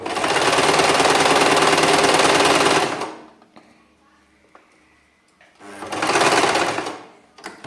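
Sewing machine stitching elastic onto lingerie, two loud bursts of rapid mechanical stitching separated by a quiet pause with small fabric-handling clicks.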